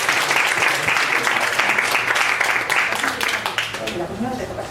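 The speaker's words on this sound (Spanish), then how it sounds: "Un aplauso" Warm audience applause welcoming speaker Javier Álvarez at a psychiatry event, dense clapping that holds strong then thins near the end as a voice begins talking over it.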